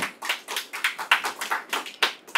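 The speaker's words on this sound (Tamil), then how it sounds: "ஒரு கைத்தட்டுங்க" Audience clapping at a talk, a dense burst of hand claps, close and loud, with uneven rhythm and no voices over it.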